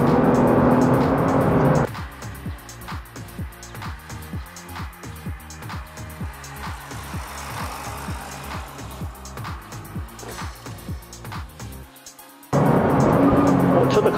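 Nissan GT-R R35 on badly worn tyres driving a drying track, engine note rising and falling with repeated gear changes, loud and close, with a sharper roaring burst at the start and end.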